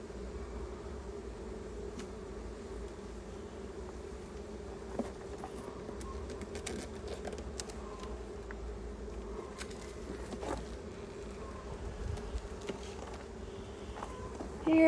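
Honeybees hum in a steady, close drone throughout a Langstroth hive inspection, with a few brief knocks and rustles on top and a louder bump at the very end.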